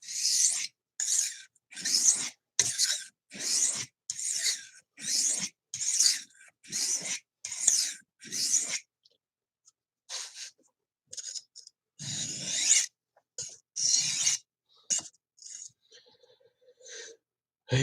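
A knife is drawn across a whetstone on the final stone, rhythmic rasping strokes about twice a second close by, then a pause and a looser, irregular run of scraping passes.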